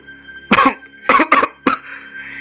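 Three or four harsh coughs in quick succession, close and fairly loud, separated by short pauses, with a faint background hum.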